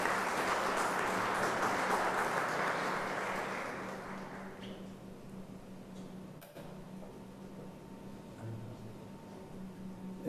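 An audience at a Jurado Nacional de Elecciones lecture event applauds loudly and steadily for several seconds. The clapping then fades to a quieter room with faint knocks and shuffling.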